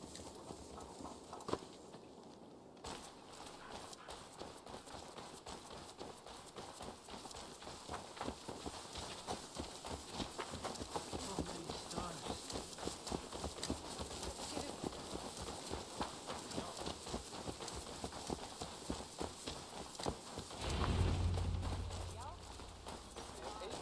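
Horse hooves clip-clopping in Assassin's Creed Valhalla, a steady rhythmic stream of hoofbeats at moderate distance, with game voices talking over them and a low thump near the end.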